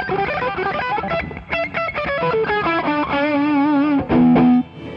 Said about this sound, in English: now we've got the amp fairly dirty. I'll turn the pedal off